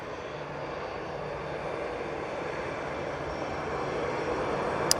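An EasyJet airliner taxis at Manchester Airport, a steady distant engine hum and whine holding constant throughout with no voices over it.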